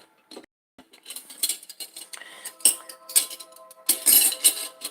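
A metal teaspoon scrapes and clinks against a jar of frozen coconut oil meant for tea, giving irregular close taps and scratchy scoops in short bursts with brief pauses.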